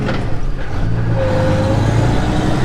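A 1993 Freightliner truck with a Cat 3408 diesel engine rumbles steadily at idle nearby, a low continuous drone with a brief rising whine partway through and no talk.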